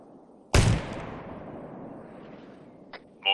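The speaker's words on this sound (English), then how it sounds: "Mortars." A single heavy mortar blast in a military shooter game fires close and loud, its boom rolling off into a long decaying rumble, followed by a couple of faint sharp clicks near the end.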